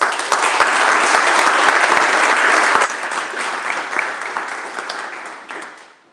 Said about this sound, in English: So give these folks a round of applause